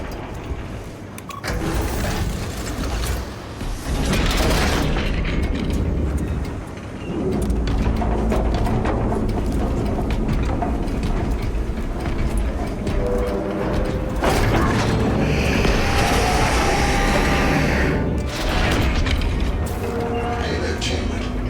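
A payload being inserted and chambered in Warhammer 40K: Space Marine 2: heavy mechanical grinding and creaking, ratchet-like clunks and sliding metal over a steady rumble, continuous and loud for about twenty seconds.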